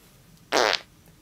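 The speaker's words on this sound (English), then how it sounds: "Don't fart! Stop farting!" A single loud, abrupt fart bursts out for about a quarter second, standing alone against a quiet background in an animated movie scene.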